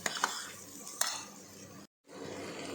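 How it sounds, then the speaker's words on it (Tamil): Ingredients stirred and sautéed in hot oil in a pan while a curry gravy is made, with a steady frying hiss, a few spoon-on-pan clinks near the start and a brief silent gap before the frying resumes. "இந்த எண்ணெயிலேயே அதை நல்லா வதக்கிடுங்க"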